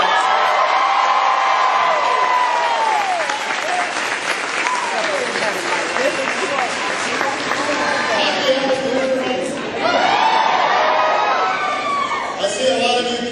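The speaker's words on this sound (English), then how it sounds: "a big round of applause." A large crowd at a President Barack Obama rally at Rhode Island College applauds and cheers loudly, with whoops and shouted voices rising over continuous dense clapping throughout.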